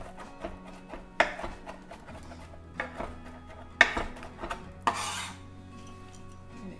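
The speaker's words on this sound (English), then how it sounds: "Finely chop these up" A knife finely chops garlic cloves on a cutting board, producing close, crisp taps and scraping strokes at an uneven pace, some sharper than others, with no talking.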